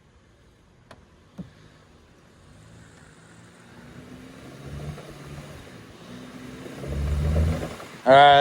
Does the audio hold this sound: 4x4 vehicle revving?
yes